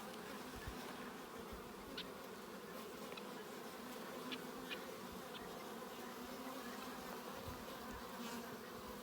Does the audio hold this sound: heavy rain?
no